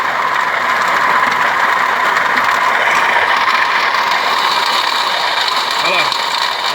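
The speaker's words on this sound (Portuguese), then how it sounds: "Olha a bomba d'água." Close-up running engine of a 2015 Hyundai HB20 1.2 12V with a broken water pump shaft, loud steady whirring drone throughout with a voice briefly over it near the end.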